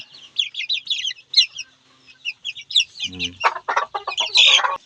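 A mother hen clucks while her chicks peep in quick high cheeps, the calls close and fairly loud, with a brief low thump partway through.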